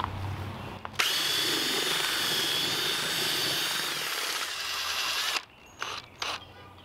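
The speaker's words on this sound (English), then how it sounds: "now I'm going to mix the slurry and the foam together" A powered mixer stirs aircrete slurry and foam together, a loud steady mechanical whir with a drill-like whine that starts abruptly, runs evenly for several seconds, then cuts off into quieter clattering bursts.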